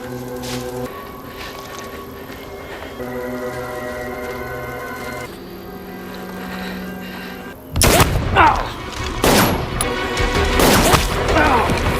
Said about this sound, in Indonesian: Jose dan Guillermo pun terlibat aksi saling tembak